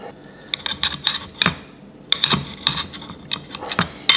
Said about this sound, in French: Je vais couper le poivron